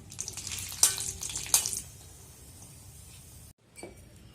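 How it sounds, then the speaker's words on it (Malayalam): Cashew nuts and raisins fry in hot ghee for a boondi laddoo, giving a close, steady sizzle with a few sharper bursts of spattering early on. The sizzle then fades to a quieter crackle and breaks off briefly near the end. "ഗീ ആഡ് ചെയ്തിട്ട് നമുക്ക് cashew nut and raisins fry ചെയ്തെടുക്കാം"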